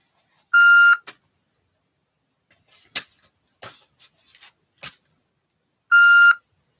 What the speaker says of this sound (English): Transfer beeps.